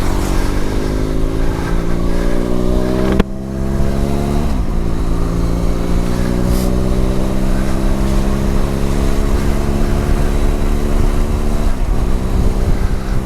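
A Benelli TRK 502X motorcycle riding on a wet, windy commute, its engine loud and close with a steady drone, rising pitch as it accelerates and several quick early upshifts, under constant wind rush.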